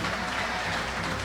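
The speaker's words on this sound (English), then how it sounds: "Give them a round of applause." Applause from a crowd honouring backing chorus singers at a live music show, a brief, steady wash of clapping heard at moderate volume for just over a second.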